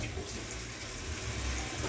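Water runs steadily from a tap into a basin while chopped vegetables for chop suey soak, a continuous close rushing sound without pause.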